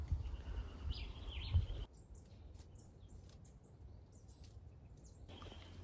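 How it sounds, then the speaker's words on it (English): Birds call in a garden where they are pecking at ackee fruit on the tree, faint, quick chirps repeating over a soft outdoor background with no speech. "the birds attacking"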